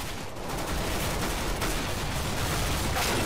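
Dense, continuous gunfire from Counter-Strike: Global Offensive, rapid overlapping shots forming a loud, relentless fusillade with no pauses.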